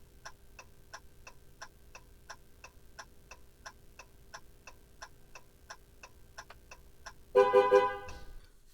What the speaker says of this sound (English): The hazards come on automatically, and then it honks when you get to the pressure.